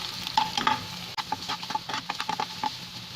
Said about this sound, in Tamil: பெல் பெப்பர், கொஞ்சமாக உப்பு சேர்த்து நல்லா வதங்கட்டும்.